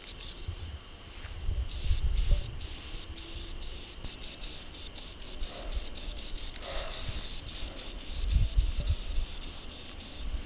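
Satin white spray paint applied to a plaque: a steady hiss of aerosol spray in repeated bursts, close and moderately loud, with faint rubbing and handling noises between passes.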